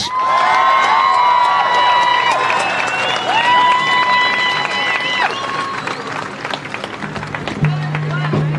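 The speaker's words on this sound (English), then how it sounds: "So join me, please, in giving a warm round of applause to Congress people Rashida Tlaib and Cori Bush" Crowd applause and cheering at a ceasefire rally at the US Capitol, greeting Congress members Rashida Tlaib and Cori Bush, dense clapping under raised voices and shouts that thin out toward the end.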